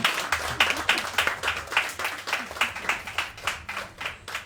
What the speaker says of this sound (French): Merci Sandrine, on l'applaudit.